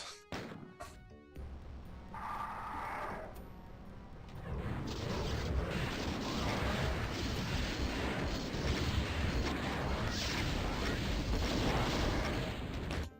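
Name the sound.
Chaingunner enemies firing in classic Doom video game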